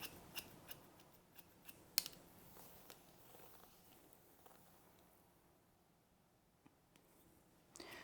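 Scissors snip through long hair while layers are cut, a few sharp clicks scattered across a quiet room, one louder close snip standing out among faint ones.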